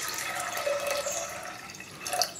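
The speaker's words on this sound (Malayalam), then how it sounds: "കുറച്ച് വെള്ളം ഒഴിച്ച് കൊടുക്കണം." Water poured from close by into a pressure cooker over black chickpeas, a steady trickling splash that runs for a couple of seconds with no talking.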